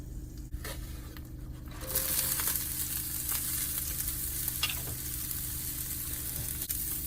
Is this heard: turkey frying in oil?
yes